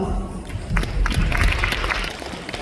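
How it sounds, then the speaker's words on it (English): An audience claps in a dense, continuous burst of applause, fairly close and loud throughout. "Let's welcome their innocence and devotion with a big round of applause."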